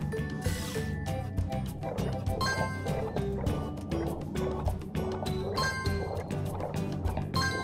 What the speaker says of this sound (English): Help Zuma to swim.